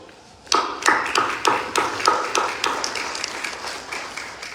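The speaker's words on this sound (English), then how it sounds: "may we give them a round of applause" Sharp claps start suddenly at an official African Union event and settle into a fairly steady rhythm, becoming denser as more hands join in.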